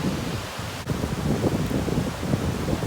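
Sea wind blowing across a quiet beach, a steady broadband rush buffeting the microphone with faint surf mixed underneath, continuous and fairly loud with no talking.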